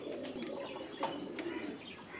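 A short face pigeon coos softly at a large mixed farm in Kerala, with a few quiet, low coos over faint background noise.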